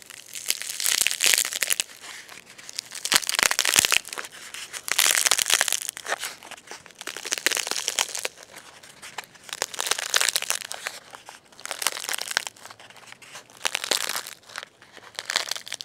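A dried luffa gourd sponge is crunched by hand to loosen its skin, giving close, loud bursts of dry crinkling and crackling that come in repeated waves with short pauses between squeezes.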